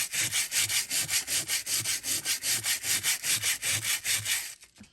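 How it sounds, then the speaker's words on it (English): Junk mail used as sandpaper is rubbed back and forth in quick, even strokes, about four per second, a close rhythmic scratchy swish that slows and trails off at the end. "just sanding off"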